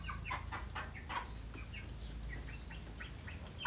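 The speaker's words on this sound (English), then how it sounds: "some of the chickens are pecking at my shoes." Chickens cluck and chatter in a barn, a flock of short clucking calls repeating close by over a steady low background hum, with no talking.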